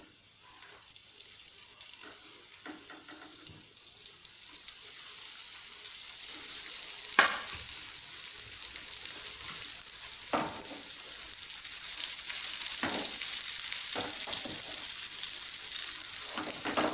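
Brinjal frying in oil on a medium flame, a steady broad sizzle that grows slightly louder over time, broken by a few sharp clinks or stirring knocks, with no talking.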